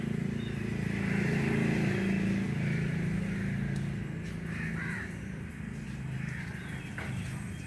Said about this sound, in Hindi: और जी परिंदों की आवाज़ आनी शुरू हो गई है।